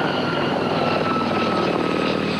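French army helicopters passing overhead, a loud, steady rotor and engine drone that fills the whole stretch without letting up, with no talk over it.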